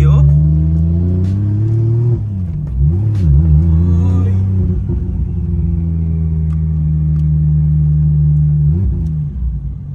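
A Nissan Skyline GT-R R34 engine idling loud and close, its deep rumble swelling into a couple of revs as the pitch rises and falls, with voices talking over it.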